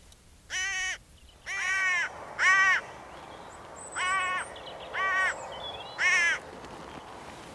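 Hooded crows give six harsh caws outdoors, spaced about a second apart, fairly close and clear over faint background noise, some calls double-toned.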